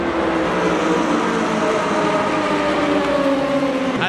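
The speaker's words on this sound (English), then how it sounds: "I'm starting to get tired of the sound of just nothing but race car noise." Race cars roar past at the 24 Hours of Daytona, a loud, steady engine drone with rising and falling pitch filling the whole stretch, no voices.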